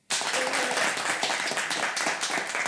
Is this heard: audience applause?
yes